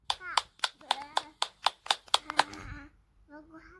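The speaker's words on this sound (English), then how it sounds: "Can you clap your hands?" A child claps hands about nine times in a quick, even rhythm, close and crisp, with a voice speaking briefly at the end.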